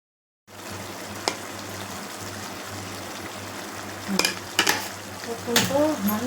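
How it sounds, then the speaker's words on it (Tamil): Onion, tomato and jackfruit sautéing in a pan for jackfruit biryani: a steady, even sizzle throughout, broken by a few sharp scrapes and clatters of a spoon against the pan toward the end. "வெங்காயம் நல்லா வதங்கிட்டு தக்காளி போட்டுக்கிறேன். தக்காளி போட்டு இந்த பழம்"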